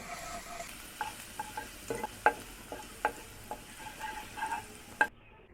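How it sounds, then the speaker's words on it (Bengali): Grated ginger and garlic fry gently in hot oil in a pan, giving a faint, steady sizzle with sparse, scattered pops and crackles throughout, no voices. "প্যানে পরিমাণ মতো তেল গরম করে নিয়েছি, দিয়ে দিচ্ছি 1/2 চা চামচ আদা রসুন গ্রেট করা"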